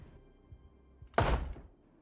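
A door opening in the Project Zomboid game, one solid thunk with a short scraping rush after a few faint taps, heard clearly alone.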